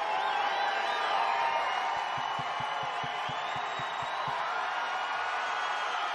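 A large wrestling arena crowd at a live WWE Raw show roars steadily throughout, dense and loud, with a few rhythmic thumps or claps partway through.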